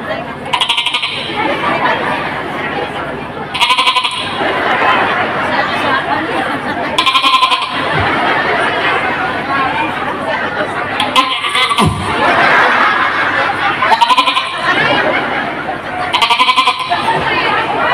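A preacher uses his voice to imitate goats, alternating a young goat's bleat with a deeper mother goat's bleat in repeated bursts, with speech and some audience laughter around them.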